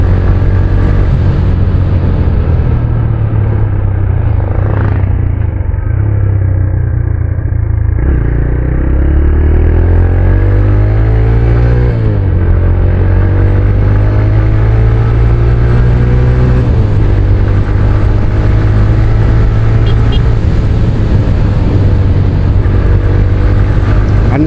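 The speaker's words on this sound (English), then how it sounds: "125cc, and the exhaust notes sound pretty sweet." A TVS Raider 125cc motorcycle engine and exhaust, loud and close, droning steadily with pitch rising and falling through several gear changes and revs, with no talking.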